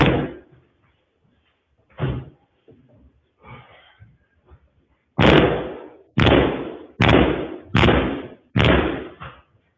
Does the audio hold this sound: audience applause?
no